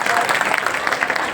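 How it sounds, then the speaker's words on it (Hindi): Brief applause from an audience at a political gathering, a dense patter of clapping at moderate level. "आप ताली से स्वागत कर सकते हैं"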